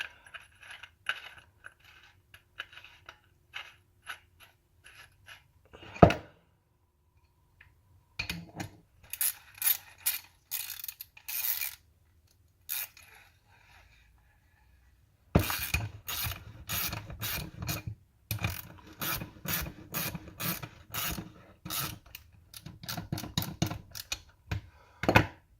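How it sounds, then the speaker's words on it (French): Parts are screwed into a shortened nitro fork tube, giving close, intermittent bursts of metallic ratcheting and scraping separated by short quiet pauses, with a denser run of clicks in the second half. "Là, on va visser."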